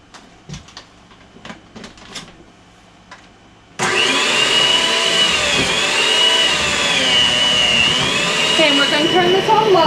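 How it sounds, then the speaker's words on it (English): An electric mixer switches on at low speed partway through to beat butter and sugar together, a steady whirring motor hum that continues to the end. It is preceded by quiet kitchen clatter and speech. "turn this on low and mix the butter and the sugar together."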